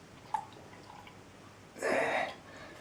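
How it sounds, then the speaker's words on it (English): An acrylic paint brush is rinsed in water and its bristles squeezed out, heard as a faint drip early on, then a short wet swishing splash of close-up water for about half a second, otherwise quiet. "Just some water, squeeze out the bristles after."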